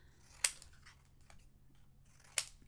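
Two crisp scissor snips trimming paper for a craft tag, about two seconds apart, close and clear against a quiet room, with no one talking.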